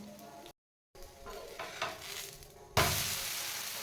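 Masala dosa crisps on a hot pan with a soft, steady sizzle and light scraping, cut by a brief gap, then a louder, brighter sizzle swells near the end.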